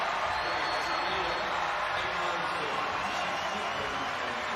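Crowd noise fills a high school boys basketball state championship arena (IHSA Class 4A, Benet Academy vs. Moline), a steady, loud wash of cheering and roar held evenly throughout without breaks.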